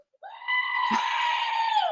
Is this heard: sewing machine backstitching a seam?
no